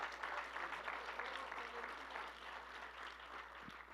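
Church congregation applauding in a dense, even burst of clapping that fades slightly toward the end, with a low steady hum beneath.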